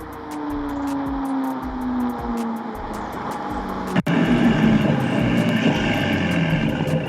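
A tuned BMW 340i with a B58 engine and upgraded intake and exhaust drives past, a steady engine drone rising after a sharp crack midway, continuous and fairly loud with no talk.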